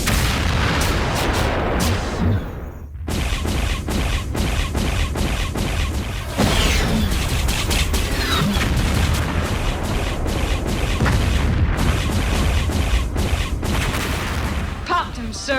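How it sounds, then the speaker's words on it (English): Artillery barrage from several batteries in a science-fiction battle scene: a loud, dense run of booms and blasts fired in rapid succession, with voices heard beneath the bombardment. "Fire mission. Multiple targets, all batteries."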